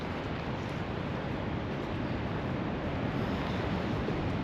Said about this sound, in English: it's kind of windy on this side